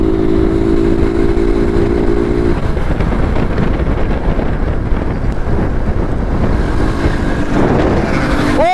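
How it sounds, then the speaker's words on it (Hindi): A motorcycle ridden at full throttle on a road roars steadily and loudly, heavily buffeted by wind noise on the microphone, with a horn-like tone sounding near the start and again at the end. "देख रहे पूरा एक्सीलेटर दियो मैंने भाई"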